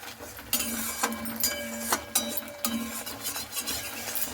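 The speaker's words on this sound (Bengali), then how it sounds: "মশলার সঙ্গে নারকেলটার সঙ্গে একটু ভালো করে কষিয়ে নেব" Coconut pieces are stirred with spices in a pan for ghugni, with a spoon scraping the pan in quick, regular strokes over a soft sizzle, close to the microphone.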